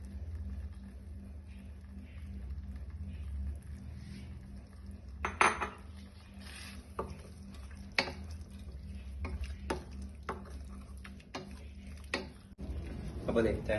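Coconut milk poured into a pot of vegetable curry and stirred, with metal utensils clinking and scraping against the pan in scattered knocks over a low sizzle and hum, a voice talking throughout.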